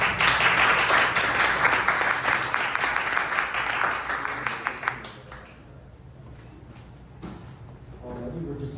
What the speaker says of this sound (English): let's give a round of applause to our presenters